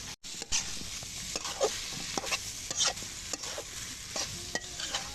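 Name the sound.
brinjal and raw tomato stir-frying in a large wok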